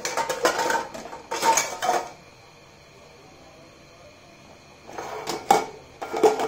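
Several metal dishes swirled around inside a container, producing bursts of clattering, scraping metal in two clusters separated by a few seconds of low hum, close and loud.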